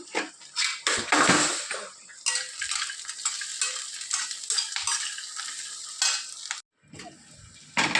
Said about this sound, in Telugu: మధ్య కదుపుతూ ఉండాలండి వీటిని